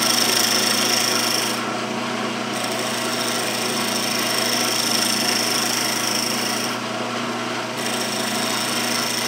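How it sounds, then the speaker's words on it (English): Round nose scraper taking a shear cut on a spinning wooden segmented box on a lathe, a steady loud rasping scrape with a constant motor hum beneath, briefly easing twice. "Finish this up with a round nose scraper using kind of a shear cut."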